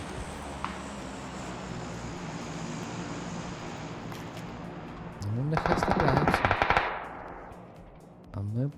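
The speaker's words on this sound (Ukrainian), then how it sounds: "Ух, там стріляють, ти подивись, що там відбувається." Gunfire in PUBG: Battlegrounds, a steady rattle of distant shots under game ambience, then a louder burst of rapid automatic fire near the end, with a voice talking now and then.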